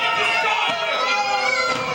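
A wrestling crowd cheering loudly and continuously at a live match, a dense wash of shouting and excited voices with no single speaker standing out.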